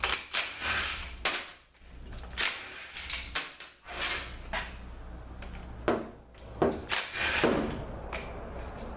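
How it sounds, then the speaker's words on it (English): Bolts coming out of the extension housing of a Ford 4R70W transmission with a 13mm tool, giving a string of sharp metallic clicks, ratchet bursts and knocks in an irregular rhythm, close and fairly loud. "Get these 13mm extension housing bolts off."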